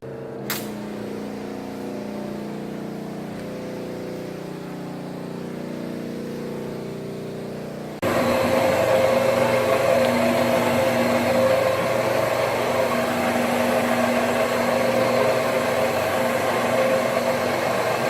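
A carpet cleaning truck's engine runs at a commercial job, first as a quieter droning hum, then stepping abruptly up to a louder, rougher steady roar that continues unbroken to the end.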